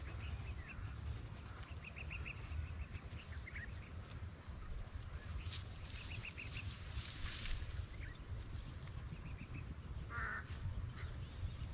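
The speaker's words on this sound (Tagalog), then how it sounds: "Yan na, meron ng uwak oh." Several short caws from a crow some distance away over a peanut planting field, repeated in small bursts over a steady outdoor rumble of wind and water.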